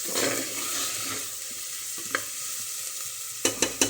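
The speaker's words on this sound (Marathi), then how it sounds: "कोथिंबीर टाकते तेलात जरा किंवा तुपात मी दोन्ही पण टाकले" Coriander sizzles in hot oil and ghee while being stirred, a close, crackling fry with a few sharp scraping taps toward the end.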